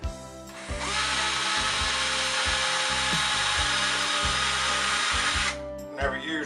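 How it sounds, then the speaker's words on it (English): A Craftsman cordless battery drill whirs close by in one sustained run of about five seconds, starting and stopping sharply, with brief handling noise around it. "Never used Craftsman battery tools before."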